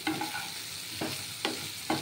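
Pumpkin pieces frying for a Bengali-style chhokka, with a steady sizzle under several distinct scrapes of a spatula stirring through the pan, roughly four strokes at uneven intervals, close and fairly loud with no talking.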